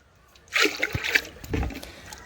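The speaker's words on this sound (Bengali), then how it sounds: "একবার জল ফেলে দিয়েছি আর আমি আবারও কিছুটা জল দিয়ে দিয়েছি" Water sloshes and splashes in short, uneven bursts as rice for puffed rice is rubbed and washed by hand in a bowl, close by and moderately loud.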